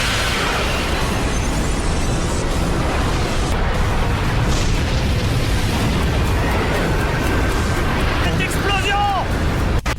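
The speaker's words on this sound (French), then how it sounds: "Explosion!" An explosion in the Naruto Shippuden anime roars as a long, continuous blast with rumbling and crackling debris throughout, while voices talk over it.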